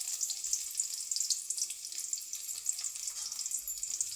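Chopped onions fry in hot oil in a wok for a taki fish and bottle gourd curry, giving a steady, close, bright sizzling hiss that runs unbroken with no voices.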